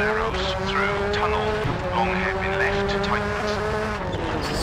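Rally car in the WRC 4 video game racing a special stage, its engine droning steadily with a sustained whine and brief tire squeal, heard up close and loud throughout.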